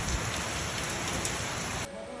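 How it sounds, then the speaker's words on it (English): Steady rain falls outside on a rainy day, a dense, even hiss of drops on surfaces that continues without a break and then drops to a quieter patter near the end. "it's too rainy to work outside"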